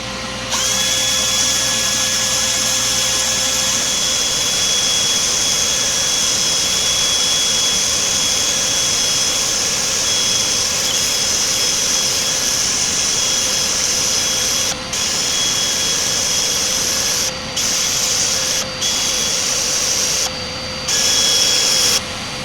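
Rustic walnut sanded on a woodturning lathe, a steady loud whirring hum of the spinning workpiece with abrasive hiss, continuous and close, with brief dips near the end.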